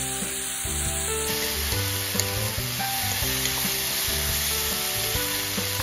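Zucchini and other vegetables stir-fry in a pan for spicy Korean zucchini stir-fry, giving a steady close sizzle with scraping stir noises throughout and no talking.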